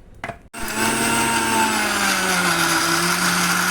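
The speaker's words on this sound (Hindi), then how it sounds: "अब मैं काजू पीस लेती हूँ" A kitchen mixer grinder grinding cashews starts with a brief clatter, then whirs into a loud, steady high-speed drone that keeps on without a break, with its pitch settling slightly as the nuts break down.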